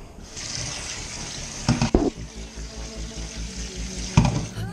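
Cold water runs from a kitchen tap during pesto cooking, a steady hissing stream with a few louder clattering splashes and knocks partway through.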